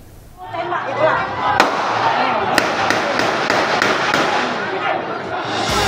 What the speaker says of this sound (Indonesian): Suara tembakan terdengar bersahutan.